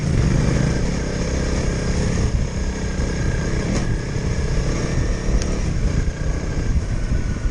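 A Honda CRF 300 L motorcycle rides off road on a trail, its engine a continuous loud, rough roar with little change in level throughout.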